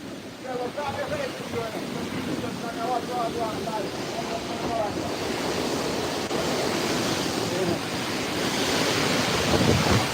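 Hurricane wind gusts in Santa Cruz, Jamaica, a loud continuous roar of wind that swells toward the end, with someone talking over it.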